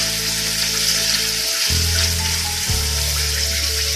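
The white part of green onions hits hot ginger-garlic paste in a pan for vegetable fried rice, giving a loud, continuous sizzle and frying hiss with a brief stirring disturbance midway and no talk.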